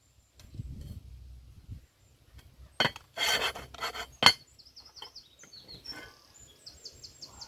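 A cast-iron Dutch oven lifted off a campfire outdoors, with scraping, rasping metal contact and a sharp clank amid soft rustling, while birds chirp faintly in the background.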